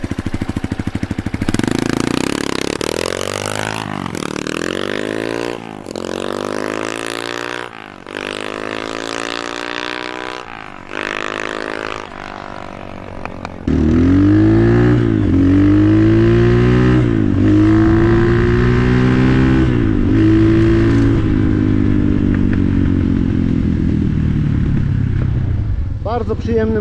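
A Diabolini MMR 250 cross motorcycle engine revs up repeatedly in rising sweeps, close and loud, growing fuller and stronger in the second half as it accelerates.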